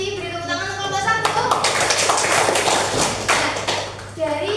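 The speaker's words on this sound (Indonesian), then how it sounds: "Beri tepuk tangan untuk kelompok 1." A classroom group applauds after a student team's microteaching presentation; a speaking voice opens briefly before a burst of dense, lively clapping fills about three seconds and then trails off.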